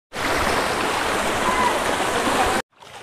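The flooded Rapti river flowing past its bank, a loud steady rush of churning water that cuts off abruptly near the end, leaving faint background noise.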